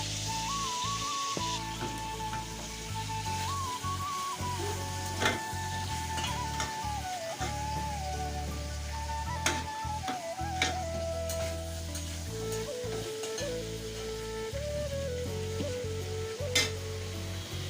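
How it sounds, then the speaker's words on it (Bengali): An egg fries in a pan in a home kitchen, giving a steady sizzle that runs the whole time, with occasional clinks and ticks from utensils and a faint tone in the background. "আর এইদিকে ডিমটা ভাজবো"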